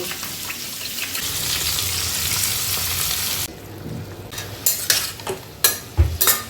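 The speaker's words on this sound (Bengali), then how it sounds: "তো একটুখানি ভাজা ভাজা হচ্ছে মাছ" A single piece of fish fries in a pan with cumin, turmeric and chili, a steady close sizzle that drops away partway through, followed by a series of spoon scrapes and knocks against the pan.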